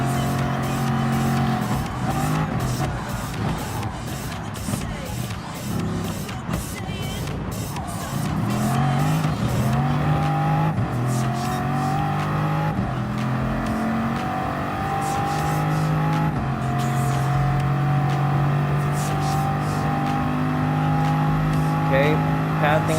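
Bugatti Vision Gran Turismo race car engine in Gran Turismo Sport during a one-make race, a loud continuous engine drone with rising and falling revs and tire noise, a commentator talking over it throughout.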